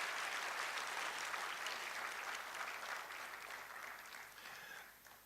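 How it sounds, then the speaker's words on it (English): An audience at a Ghana College of Physicians annual general and scientific meeting claps in sustained applause, fairly faint and distant, fading toward the end. "So let's clap for the Komfanochi guys."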